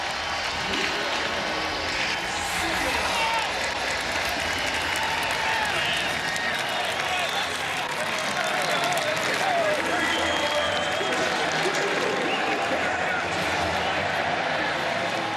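At Bill Snyder Family Stadium, a college football crowd roars nonstop after a Kansas State touchdown against UCF. The loud, dense cheering fills the whole stretch while a commentator talks over it.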